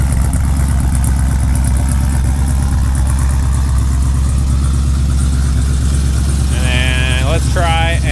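A 426 supercharged HEMI engine idles in a Dodge Dakota pickup, a loud, steady low rumble throughout, with a brief voice near the end.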